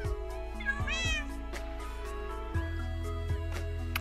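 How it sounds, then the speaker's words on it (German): A cat meows several times, clear and fairly close, with rising and falling calls over a steady low hum. "Ja, braves Kätzchen."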